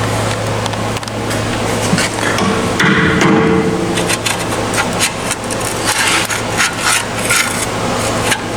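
Old original 1990 paint being scratched off the drive shaft of a 1990 Geo Tracker, a close, uneven series of rasping scrapes and small knocks with no talking.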